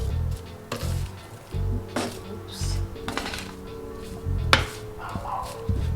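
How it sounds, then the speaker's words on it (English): Chickpea salad being stirred and tossed in a bowl, with irregular clinks and soft squishy knocks of utensils against the dish, moderately close, coming in uneven bursts. "So I'm gonna mix it together."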